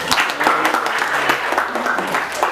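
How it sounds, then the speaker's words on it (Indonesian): A small classroom group claps for group 2 during an Indonesian language teaching session, fairly close, with uneven, scattered claps and some voices and tonal sounds mixed in. "Tepuk tangan untuk kelompok 2."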